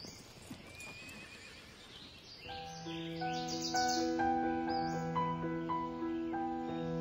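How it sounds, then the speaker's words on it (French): Shod horse hooves clatter at a gallop on a hard, straight road, a busy close clatter for the first few seconds before sustained musical tones swell in and carry the rest. "Galoper à cheval sur une route droite et dure au claquement des sabots ferrés"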